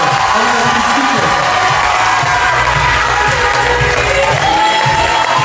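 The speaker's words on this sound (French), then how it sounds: "mesdames et messieurs, on applaudit Charline" An audience at an evening show at a campsite holiday park applauds loudly and cheers, with whoops and shouts rising over continuous dense clapping and a murmur of voices throughout.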